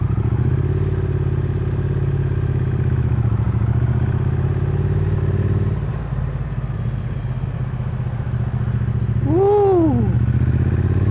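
A Triumph Modern Classics motorcycle engine idles steadily up close, its low mechanical rumble rising briefly as the revs lift near the end.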